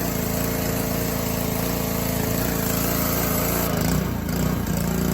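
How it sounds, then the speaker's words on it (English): A pressure washer runs for a car wash, giving a loud, steady motor drone that holds nearly unchanged throughout. "I got the pressure washer ready and the foam gun"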